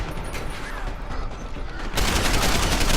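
Gunfire in the video game Deus Ex: Human Revolution: a dense, continuous barrage of rapid shots, loud and close, swelling even heavier partway through.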